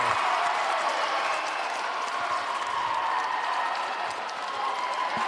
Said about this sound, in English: And the crowd goes wild there.